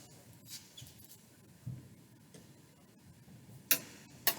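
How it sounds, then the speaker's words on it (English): A small die-cutting machine cracks and creaks under load, giving scattered soft ticks and clicks and two sharper cracks near the end, close by and quiet, with no talking. "those cracking sounds that must sound terrible to you are just normal wear and tear with this machine"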